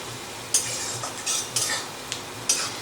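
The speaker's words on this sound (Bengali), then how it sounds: "এখন পেঁয়াজটাকে বেশ লাল করে ভেজে নেব।" Onions frying in a pan until browned for Lahori mutton, with soft steady sizzle and a few sharp scrapes of a spoon stirring at intervals, fairly quiet and close, with no talk.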